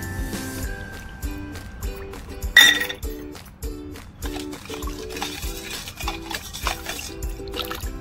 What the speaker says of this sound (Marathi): नॉर्मल दुधामध्ये आपण खडीसाखरची पावडर टाकून मिक्स करूया.